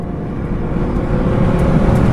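A Renault Megane RS runs at full throttle on a race track, a dense, steady engine roar heard from inside the car with no talk over it.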